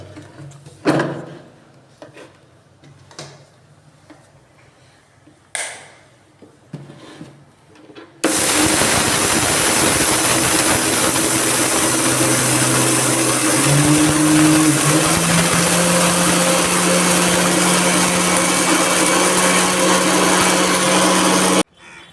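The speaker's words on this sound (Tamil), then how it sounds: "எல்லாமே மிக்சியில் போட்டோம் அந்த ஜாரில் போட்டு" A few light clicks and knocks come before a kitchen mixer grinder starts up loud and close, whirring continuously for about thirteen seconds as it blends fenugreek seeds, mustard seeds and curry leaves. Its pitch shifts partway through, then it cuts off abruptly.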